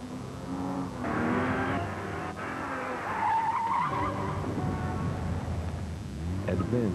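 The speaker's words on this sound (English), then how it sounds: "Continental Tires in a torture test." Continental tires screech and skid during a torture test, with a car engine revving behind the squeal and a narrator's voice running over the sound.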